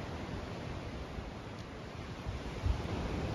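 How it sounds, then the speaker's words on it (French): Ocean waves of the Arabian Sea wash in as a steady, broad roar of surf mixed with some wind, continuous and fairly even in level for a few seconds, with no voices. "on a le bruit des vagues là qui revient depuis l'océan"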